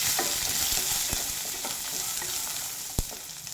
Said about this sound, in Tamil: இதெல்லாம் சேர்த்து கொஞ்ச நேரம் வதக்கி வச்சுக்கலாம்.